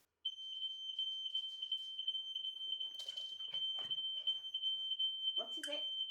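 A smoke or fire alarm in a home beeps as a steady high-pitched continuous tone that persists throughout, with people talking and moving nearby beneath it.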